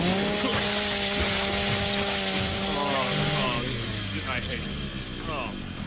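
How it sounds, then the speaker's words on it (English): A chainsaw bayonet in the Gears of War 4 video game cuts through sticky goop, a loud, steady, droning engine whine that runs throughout, with game sounds and voices mixed in. "Chainsaw the goop."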